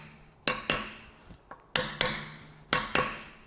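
A hammer taps a LugDriller socket onto a stubborn wheel lock nut, giving six or seven sharp metallic strikes in irregular pairs, close and clear against a quiet background.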